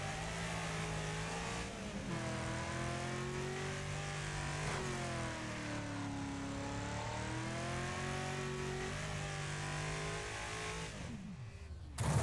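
Race cars in a racing video game produce a continuous engine drone with rising and falling revs, loud and sustained, ending in a brief noisy burst.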